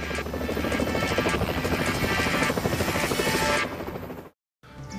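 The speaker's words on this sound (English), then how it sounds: "the crew flew to a nearby mountain to prep the helicopter" A helicopter flies close and loud, readying for an elk darting crew on a mountain in Canada, its rotor throbbing steadily before a sudden cut to silence and a brief return.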